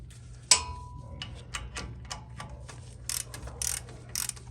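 A ratchet works on the brake caliper bolts of a two-wheel-drive Ford Ranger, giving close, quiet clicking and rattling metallic ticks after a sharp knock, with no talk.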